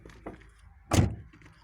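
The door of a 2010 Opel Astra H 1.4 shuts with a single dull, muffled thunk after a few faint knocks, heard close and moderately quiet.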